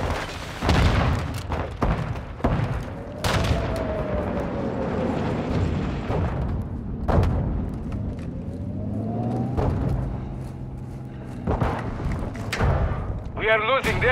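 A grenade blast in the Modern Warfare 2 Ground War game on the Sa'id City map goes off among repeated booms and thuds over rumbling battle noise, with voices calling out throughout.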